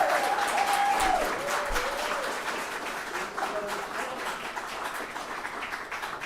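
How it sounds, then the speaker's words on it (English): Steady audience applause from a small community show-and-share gathering, a dense wash of clapping that gradually softens, with a faint voice briefly audible early on. "Can we get a big round of applause for Neil for putting so much work into this?"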